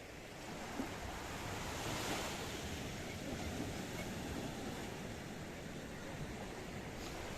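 Sea waves at Corallia Bay Beach in Coral Bay, Paphos, Cyprus, on a sunny day, a continuous surf wash with wind buffeting the microphone, moderately faint and steady.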